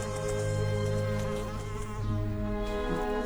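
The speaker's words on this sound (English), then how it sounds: "1926, they've still got bees." Insect buzzing, a bee or wasp drone with a steady, slightly wavering pitch, close and continuous for a few seconds without any talk.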